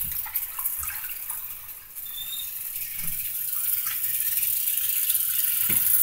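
Warm tap water running into a bathroom sink to wash a wig, a soft steady rushing stream that grows slightly fuller as the basin fills, with a couple of faint knocks, close and without talk.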